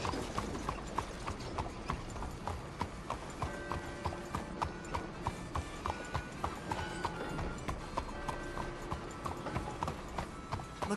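Horse hooves clip-clop in a steady, even rhythm throughout, loud and close, in the video game Red Dead Redemption 2, with a faint continuous background under the hoofbeats.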